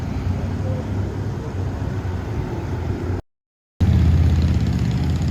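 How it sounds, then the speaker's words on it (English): Light downtown car traffic in Morganton, North Carolina: a steady, fairly loud low rumble of passing vehicles and idling engines, broken by a short gap of silence before the road noise resumes. "about as heavy as traffic gets in Morganton"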